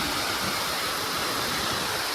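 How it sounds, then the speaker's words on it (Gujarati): Water pours down from above in a village bathing spot, a steady broadband hiss like a small waterfall, even and continuous with no pauses. "મસ્ત મજાનું પાણી પડે છે ઉપરથી"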